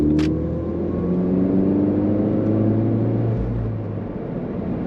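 A 2018 Ford Fiesta ST with a manual gearbox accelerating in gear on a highway, a steady close interior engine drone rising gradually under road and wind noise, with no talk.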